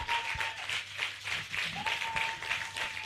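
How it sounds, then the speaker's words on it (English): Audience at an International Women's Day tech event in Nigeria claps steadily as a woman walks forward to the stage, a continuous patter of many hands heard from a distance, moderately loud, with no voices over it. "Please keep clapping her as she comes forward."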